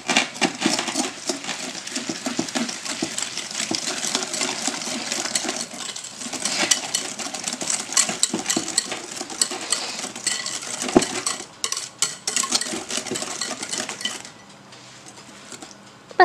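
Basbousa batter of vermicelli with sugar is mixed in a bowl, giving a steady, busy run of clattering and scraping stirs that thins out near the end.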